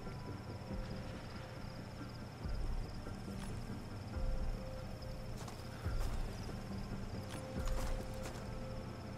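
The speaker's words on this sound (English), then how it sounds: "And it's a damn horse." Horse hooves clip-clop at a steady, moderate pace in the video game Metal Gear Solid 5, with clear periodic thuds roughly every one and a half seconds over a constant ambient bed of insect-like chirping.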